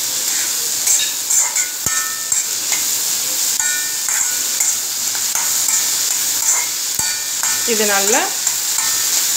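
Melting jaggery for a red rice and green gram kozhukattai filling is stirred in a pan with a spoon, giving repeated scraping strokes over a soft bubbling sizzle, with a brief spoken remark.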